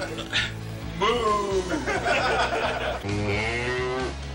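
A cow moos in long, drawn-out calls, with voices present alongside.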